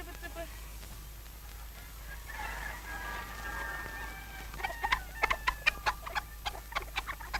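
A rooster clucking in a Russian drama film: a run of short, sharp clucks in the second half, rising over a steady background hum with faint noise beforehand.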